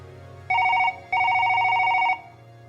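A telephone rings in two bursts, first a short one and then a longer warbling trill, loud and clear with no voices over it, in a dramatized audio story.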